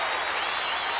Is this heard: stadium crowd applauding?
yes